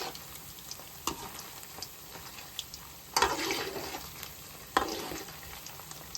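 Paneer fries in a pan for kaju chilli paneer, a faint steady sizzle punctuated by a few louder scraping stirs and clatters as the pieces are turned.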